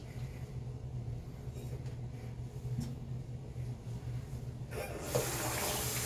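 A tap runs cold water into a bathroom sink, a steady low wash that swells into a brighter, louder hiss in the final second as the flow strengthens.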